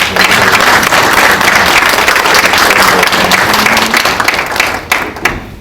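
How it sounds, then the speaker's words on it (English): A round of applause from a conference audience at an annual ultrasound meeting, welcoming a hospital emergency doctor as speaker: close, thick, continuous clapping that holds steady and then thins out into a few scattered claps at the end. "Give a round of applause to Dr. Hugh Wong."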